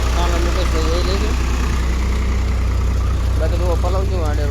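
A tractor engine idles close by with a loud, steady low throbbing rumble throughout, while people talk over it.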